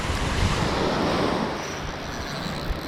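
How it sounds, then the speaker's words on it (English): A big ocean wave breaks and washes in at Fort Morgan in Gulf Shores, a broad roaring surf that swells, then settles into a steadier hiss of water close by. "Big wave."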